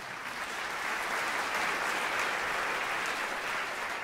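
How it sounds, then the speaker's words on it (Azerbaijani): Audience applause at the Azeri Business Award 2017 ceremony in the JW Marriott Absheron Baku Hotel: a steady, dense clapping from a full hall that holds an even level for about four seconds, with no voices over it. "Badam Patisserie, alqışlarınızla."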